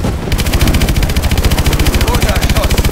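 Rapid machine-gun fire in Call of Duty: Advanced Warfare pounds on in a loud, continuous rattling burst, evenly spaced shots filling the whole stretch with heavy low-end thump.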